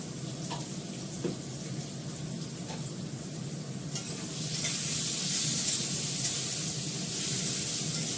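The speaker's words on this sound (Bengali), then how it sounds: "এই মেথি শাকটা আমি সমানে জল দিয়ে দিয়ে ধুচ্ছি" Fenugreek leaves being washed under running water, a steady close hiss of flowing water that grows louder partway through.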